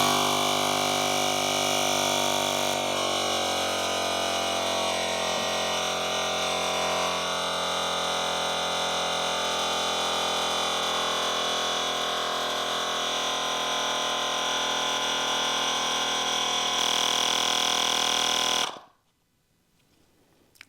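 Two Sealey rechargeable tyre inflators run together pumping air into a tyre, a loud, steady, whining motor drone with a dense buzz that holds for about eighteen seconds before both cut off abruptly into quiet.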